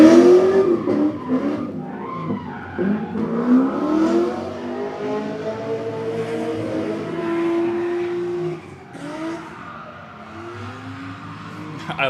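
A Chevrolet Corvette C6 drifts in Mexico, its loud engine revving and tires squealing in long, wavering sweeps that fill the air, with faint voices mixed in.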